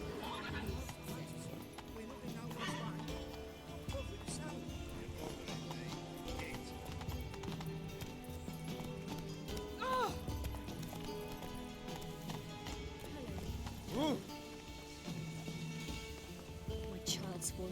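Roach, the horse in The Witcher 3, gallops with steady, rhythmic hoofbeats and an occasional whinny, while voices speak over the ongoing clatter.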